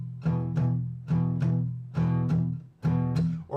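Electric guitar groove built on triplets with the middle note dropped, giving a repeating long-short pattern of chord stabs. Four steady bars, close and clear, with no talking.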